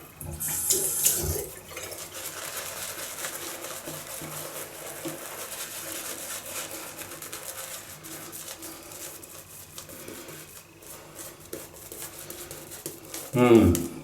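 Water runs steadily from a tap over a paintbrush in a continuous close wash, with a brief splash near the start and another at the end.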